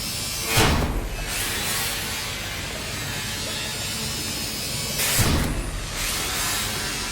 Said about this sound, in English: So this is going to be a lot of chopping now.